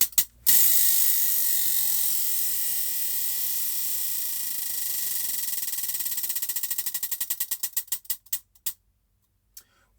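A prize wheel spun by hand, rattling off rapid ticks that stay even for a while, then spread out and slow into a few final separate clicks before stopping.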